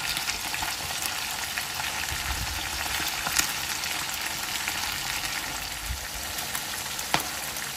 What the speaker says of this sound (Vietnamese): Mình rán cá 9 cái mặt các bạn ạ.